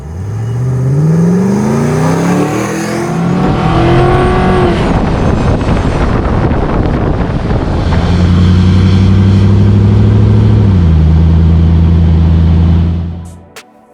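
A restored 1991 Land Rover Defender 90 with an LC9 340-horsepower engine and six-speed automatic revs hard and loud, pitch climbing in rising sweeps, then settles into a steady, heavy drone before cutting off.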